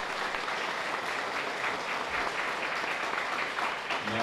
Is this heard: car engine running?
no